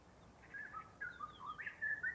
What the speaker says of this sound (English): And then I also added this bird sound in from a one-shot kit